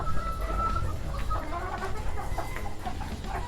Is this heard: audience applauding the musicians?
no